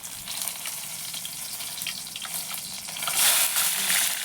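Chopped onions sizzle in hot oil for a chicken curry, a steady close crackling frying hiss that swells louder toward the end, with faint stirring and no talk.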